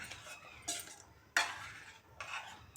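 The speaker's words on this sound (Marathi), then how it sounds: "पनीर टाकल्यानंतर हलवायचं." Paneer being stirred into palak gravy in a pan: a few soft scrapes and clinks, close but faint, over a quiet background.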